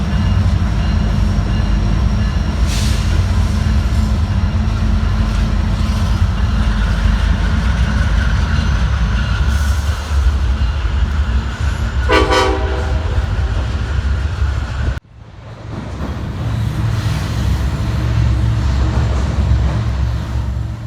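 A long intermodal freight train carrying over 300 containers rumbles past on the Martinez Subdivision, steady and loud, with a short horn blast and faint wheel clatter before the sound abruptly shifts.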